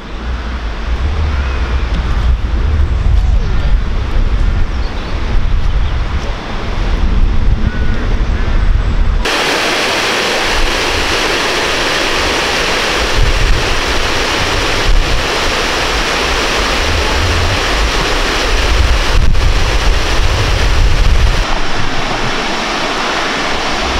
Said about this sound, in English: That's looking at the weir at Forge Dam.